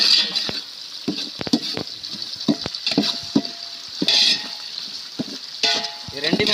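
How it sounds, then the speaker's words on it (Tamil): Tomatoes with a pinch of salt sauté in a pan, stirred by hand with a utensil: close, steady sizzling and frying broken by repeated scraping and clinking strokes against the pan, with no talking. "இது ரெண்டுமே நல்லா வந்து பொன்னிறமாக வர வரைக்கும் நல்லா வந்து வதக்கிக்கினே இருக்கணும்"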